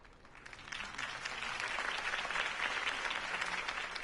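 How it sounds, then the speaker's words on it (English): Crowd applause for Harvey Dent's campaign speech in Batman: The Telltale Series, a dense, steady clapping that swells in the first second and then holds loud and even to the end. "could have heard that applause"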